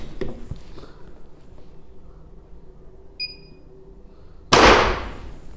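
A single sharp crack from a Hatsan Nova Star regulated PCP air rifle firing near the end, loud and close, after a quiet stretch with a few faint knocks and a brief electronic beep.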